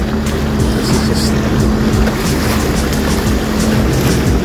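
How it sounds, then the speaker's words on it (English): A Sea-Doo personal watercraft idles on the water off Destin, Florida, its low steady engine drone close and constant, mixed with light wind and water wash. "I got no propeller, can't hurt him. I'm just idling along."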